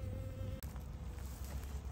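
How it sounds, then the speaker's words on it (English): Swarm of honey bees outdoors in cold, wet weather, a continuous close buzzing hum of many wings with a brief dip in the drone, no voices. "Gorgeous looking set of bees, absolutely beautiful."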